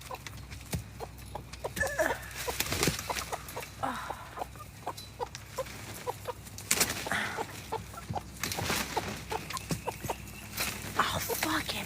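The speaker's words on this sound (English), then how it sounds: "Look at my chickens." Backyard chickens clucking and calling around a person letting them out of their coop before feeding, busy overlapping clucks near and far, with rustling and a person talking over them.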